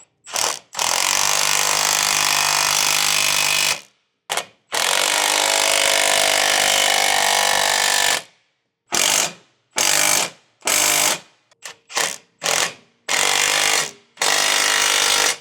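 An impact or power tool tightening bolts while fitting a valvetronic exhaust to a BMW E9x M3: loud sustained rattling bursts, some several seconds long, then a series of short, choppy bursts separated by silence.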